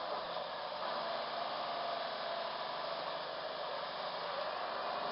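The hydraulics of a 1994 John Deere 670B motor grader run in a steady, unbroken broadband drone, loud and constant throughout, with no voices.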